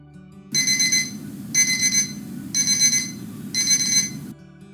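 Repeating alarm tone played by a Python playsound script on a computer, four loud bursts of bright beeping, each about a second long, with short gaps between, heard alone.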